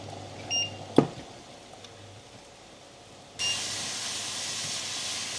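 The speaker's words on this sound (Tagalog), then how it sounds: "So, kumukulo na yung ating tubig dito." A single clunk, then a steady rushing hiss of water boiling in a pot sets in and continues evenly.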